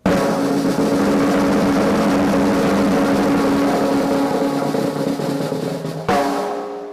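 A BMW 335i (E92) engine runs at a steady idle with a low, even hum throughout, briefly dipping then resuming near the end; no talking.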